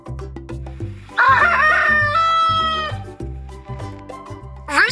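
A rooster crows loudly and close, with a long drawn-out cock-a-doodle-doo over a steady rhythmic background beat, and a second crow begins at the very end.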